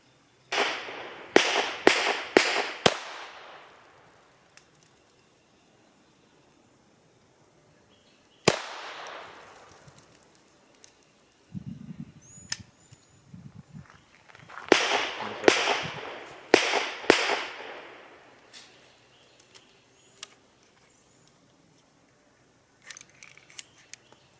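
A Taurus TX22 pistol fires cheap bulk .22 ammunition outdoors: sharp, loud cracks in quick strings of several shots, separated by pauses and a few scattered single reports, with faint handling noise between strings.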